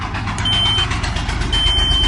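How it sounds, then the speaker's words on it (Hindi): A multimeter on continuity test beeps while probing a coil on a mobile phone circuit board: two steady, high, thin tones, each under a second long, over a loud hissing background. "ये बीप कर रहा है कॉइल पे।"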